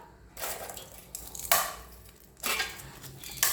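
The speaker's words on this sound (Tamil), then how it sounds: "இப்போ பானிபூரியை நம்ம இதில் உடைச்சிட்டுக்கிடலாம்" Fried pani puri shells, about 100 grams, are broken by hand: several crisp, crunchy cracks in short separate bursts, close and fairly loud, with no talking.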